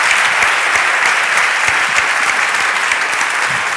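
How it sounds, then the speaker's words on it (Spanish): Loud, dense applause from an audience at a book event honoring a film actress, a continuous wash of clapping that holds steady throughout. "aquí un fuerte aplauso para Elvira Miguel, una de las grandes actrices de nuestro cine"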